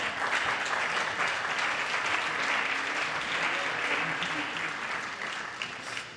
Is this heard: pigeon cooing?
no